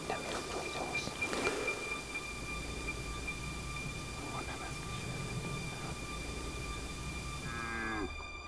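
A cow lows in a forest during the deer rutting season, a few drawn-out moos rising near the start and again toward the end, under a steady humming background of tonal noise.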